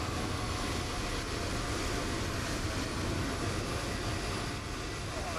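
Aircraft departing in Microsoft Flight Simulator, a steady broadband engine roar that holds at an even, moderate level throughout with no break.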